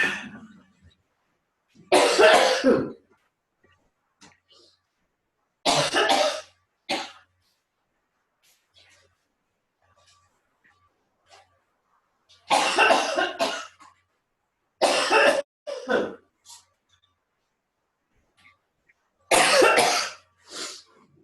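Several bursts of coughing and throat clearing, close and loud, separated by stretches of near silence.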